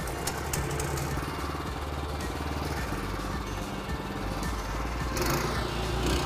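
The engine of a walk-behind flail mower runs steadily after a pull start, a loud, dense, continuous mechanical roar close by with no pauses.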